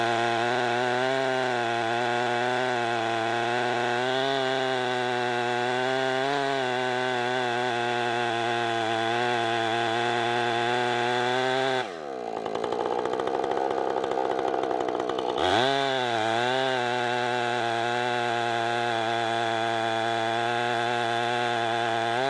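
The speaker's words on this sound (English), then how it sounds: "So what you're seeing now is just squaring up the log enough to get that first pass across the top." A Woodland Mills HM130 sawmill cuts through a 4000-pound oak log, its engine snarling loud and steady up close, with the pitch dipping and straining for a few seconds as the blade bites before the roar recovers.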